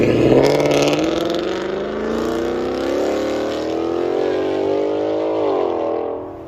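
A 2021 Ford Mustang GT with a 5.0L Coyote V8 and a CORSA Extreme cat-back dual exhaust rumbles loudly nearby, its deep burble climbing through a long rev, then dropping back near the end; no talking.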